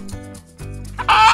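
A hen clucks in a short run of calls, close and clear, ending in a louder, brighter squawk.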